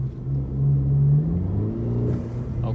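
A Mercedes car with a throttle-response tune accelerates hard in race mode, its engine note rising and falling as it pulls, a steady mid-to-low rumble heard from inside the cabin with no talking.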